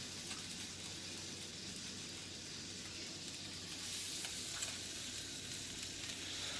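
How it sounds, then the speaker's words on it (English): Beef stroganoff stirred in a hot pan, a steady broad sizzle and frying hiss running throughout with soft scraping underneath, slightly louder toward the end, no voices. "And we'll just stir everything up here until it starts to thicken."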